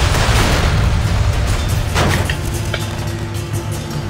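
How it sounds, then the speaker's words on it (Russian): Explosions in the Sleeping Dogs video game produce a loud, dense roar that fades gradually, with a couple of short bangs and crackles following, alone without talk. "сейчас тройной взрыв"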